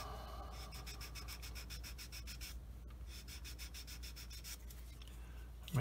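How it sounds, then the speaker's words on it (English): Rapid, rhythmic rasping strokes of a sanding stick rubbing a small hard plastic part of a 1/35 scale Tamiya Panzer II tank model, close and fairly quiet, with a brief pause partway through. "just take my sanding stick"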